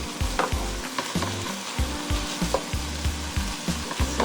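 Vegetables fry in a pot while being stirred, a continuous loud sizzle broken by regular scraping strokes of the spoon, close up with no voices.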